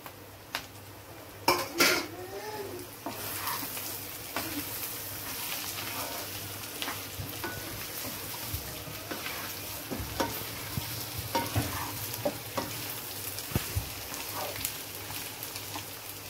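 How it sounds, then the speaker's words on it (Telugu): Beetroot pieces are stir-fried with curry leaves in a pan, with a soft continuous sizzle broken by repeated clinks and scrapes of a spoon against the metal pan, fairly quiet and close. "ఇప్పుడు బీట్రూట్ ముక్కలు వేసుకుందాం అండి"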